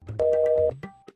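Telephone ringback tone heard while placing a call, a steady two-pitch electronic tone lasting about half a second, followed by brief muffled sounds and short clicks.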